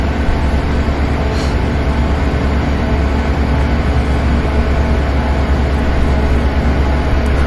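Union Pacific 3985 steam locomotive in the Open Rails train simulator, on a return run over Tehachapi Pass, gives a steady, loud mechanical rumble and rail drone that never lets up and carries no talk.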